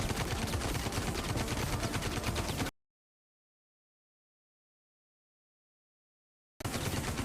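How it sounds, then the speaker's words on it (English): Automatic weapon fire in the VR Citizen shooter game, a dense continuous burst of rapid shots that cuts off into silence, then resumes briefly at the end. "he's like got his weapon stuck in fully automatic mode"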